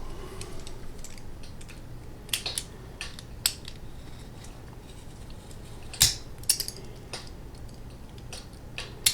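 The case back of a Luxurman watch is screwed tight during a battery replacement, giving small, close metallic clicks and ticks scattered irregularly over a faint steady background.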